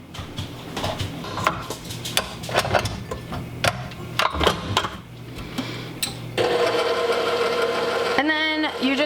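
A stand mixer mixing eclair cake ingredients starts up after a stretch of clattering kitchen handling, settling into a steady loud motor whir, with a short rising whine near the end.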